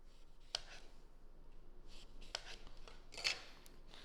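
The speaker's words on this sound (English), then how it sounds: "We're going to cut slices here." A knife slices through fruit for a harvest punch with three faint, crisp cuts spaced apart, close by and quiet, with no talking.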